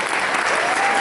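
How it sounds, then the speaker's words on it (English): A crowd at a charity auction applauds Justice Uda with a brief, dense burst of clapping, loud and steady throughout. "One more huge round of applause for Justice Uda"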